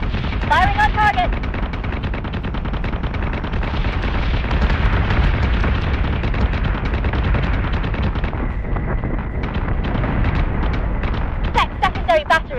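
Warship guns in Battlestar Galactica Deadlock fire on a target in a loud, sustained barrage of booming rapid shots with rumbling explosions and chirping alarm-like tones, with some voice underneath.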